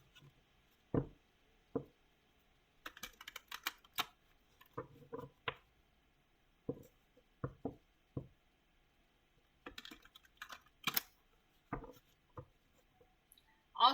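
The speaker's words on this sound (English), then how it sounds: "I'm going to start pulling some cards now" Tarot cards are handled while being shuffled and pulled, making soft, scattered taps, flicks and brief riffles spread across a quiet room with pauses between them. A few louder slaps come near the end.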